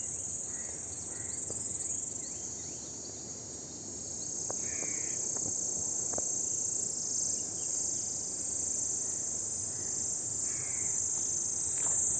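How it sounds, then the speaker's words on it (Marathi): Cicadas in a forest drone in a continuous, high shrill buzz from start to finish, with scattered distant bird calls and faint chirps underneath. "सिकाड्याचा आवाज आहे तो"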